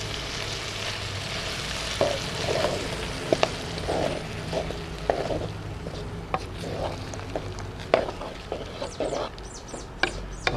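An octopus and eggplant red curry with coconut milk sizzles and bubbles softly in a pan, with scattered clicks and clanks of a utensil stirring the pot.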